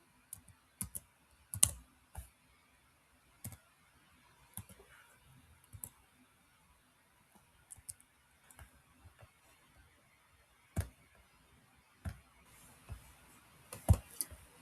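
Quiet computer keyboard typing, with scattered individual key clicks and short bursts of taps spread irregularly, close and faint, with no voice.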